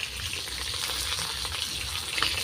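Fish frying in hot oil in a pan gives a close, steady crackling sizzle with small pops throughout, no voices.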